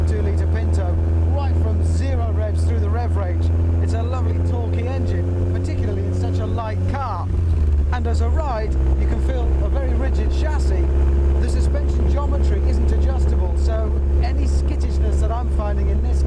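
A kit car powered by a 2-litre Ford Pinto engine drives along, its steady low engine drone loud and continuous, dipping and resettling briefly mid-way as if through a gear change, with someone talking over it throughout.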